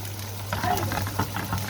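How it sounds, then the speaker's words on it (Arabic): Garlic and coriander sizzle in a pan as a fried topping for molokhia, a soft steady hiss rising after a moment, with a person talking over it. "ودي طشه الثوم بالكزبره"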